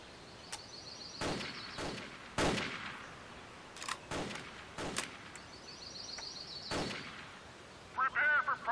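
Rifle shots at a training range in the America's Army video game, about eight sharp cracks spaced irregularly over several seconds, moderately loud with brief echoes, followed by a short burst of speech at the end.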